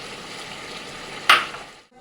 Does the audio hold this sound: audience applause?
no